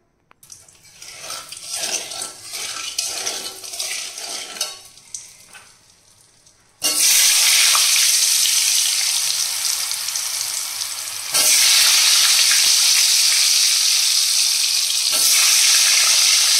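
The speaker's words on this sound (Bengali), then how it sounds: "তো চলো আগে আলু ভাজাটা বসিয়ে নিই" Potatoes fry in a pan: after several seconds of quieter kitchen sounds, a loud, steady sizzle bursts in and continues close up, briefly easing before surging again.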